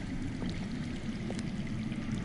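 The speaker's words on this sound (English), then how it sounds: "I hear water. From underground." Underground water in the Game of Thrones video game flows as a steady, faint, continuous rushing stream, distant and unbroken, with no talking.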